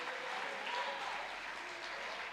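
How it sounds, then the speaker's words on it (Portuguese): A church congregation claps together during a Portuguese-language worship service, giving a dense, steady wash of applause that stays even and loud for its whole short length. "aplauda Jesus, porque Ele pode fazer na minha vida, na sua vida, na nossa igreja."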